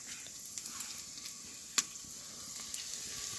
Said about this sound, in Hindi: अभी नहीं जला तड़का